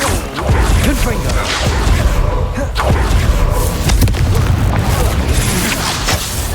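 Repeated magical spell blasts from Hogwarts Legacy, Confringo and Bombarda, loud booming impacts and whooshes in dense succession over busy game combat noise, with a voice casting spells throughout.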